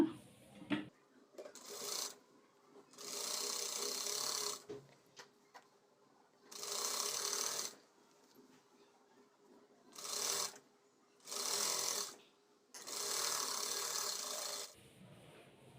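Sewing machine stitching a hemming piece onto the back part of a boat-neck blouse, running in several separate bursts of a few seconds each, with quiet pauses between them and no talk.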